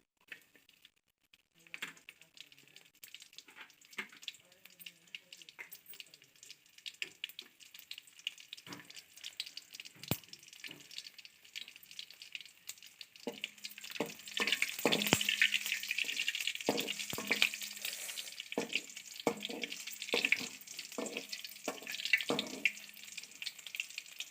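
Garlic dropped into hot oil for a mushroom and lima bean gravy, starting with quiet crackles and scattered sharp pops, then building into a denser, steady sizzle with repeated crisp ticks, close and without voices.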